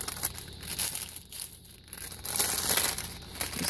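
Crinkly gift-package wrapping and tape rustled and crumpled by hand, a steady close crackle with occasional tearing bursts, with no talking.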